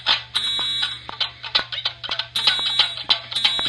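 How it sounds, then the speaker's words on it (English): A fire department test sets off a school's fire alarm, which blares in fast, harsh repeating pulses of a loud electronic horn that carry on steadily for the whole stretch. "Right now, school fire alarm."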